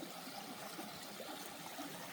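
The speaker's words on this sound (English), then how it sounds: "Nice little trickling creek." A small woodland creek trickling, a soft continuous watery wash, faint and steady throughout with no voices.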